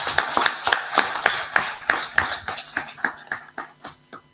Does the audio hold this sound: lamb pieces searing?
no